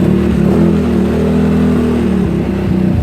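GY6 scooter engine with a stuck throttle revving high and steady, a loud close-up drone holding its pitch with slight wavering throughout, no voices.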